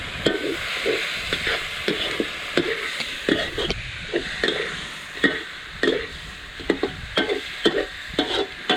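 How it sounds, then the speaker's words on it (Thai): Spicy eel sizzles in a hot pan while a utensil scrapes and stirs in quick, irregular strokes, close up with a steady frying hiss. "ผัดเผ็ดปลาไหล"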